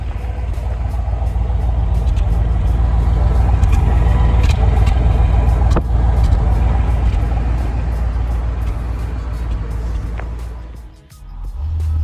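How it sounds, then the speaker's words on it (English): A 1964 Corvette Sting Ray idles steadily, its exhaust note a deep, continuous rumble held close and loud for about ten seconds before briefly dipping near the end. "I'm gonna make you listen to the exhaust note."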